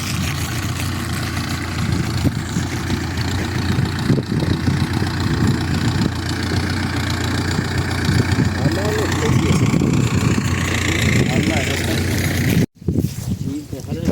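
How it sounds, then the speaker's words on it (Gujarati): A steady low tractor engine chugs and rumbles close by throughout on a farm, with people talking over it and a brief cut near the end. "ટ્રેક્ટર આવે છે"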